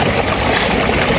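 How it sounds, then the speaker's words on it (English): Small waterfalls flowing at a state park, a loud, close, continuous broadband rush of falling water with no breaks and no voices. "I'm right next to a bunch of little waterfalls."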